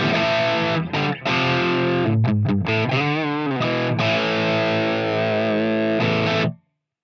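Heavily distorted electric guitar through a TC Electronic V550 Ampworx preamp pedal sustains loud chords and a few bent notes, a thick overdriven amp tone ringing out before cutting to silence.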